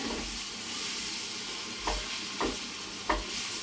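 Meat sautéing in a pot for a spicy kidney bean stew, a steady close sizzle with a few stirring scrapes near the end, and no voices.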